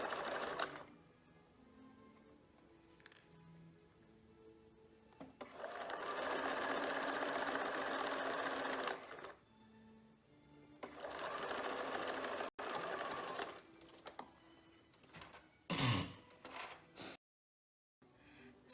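Sewing machine stitching seam tape onto a gown lining, running in long steady bursts that stop and start, close up with a few faint clicks between runs and no talking.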